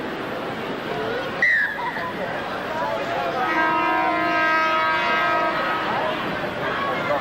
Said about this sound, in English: The half-time siren has sounded